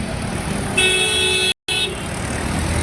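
Rainy road traffic in Gangapur City, with a steady hiss of vehicles and a long, loud car horn blast, a short break, then more honking and passing traffic noise.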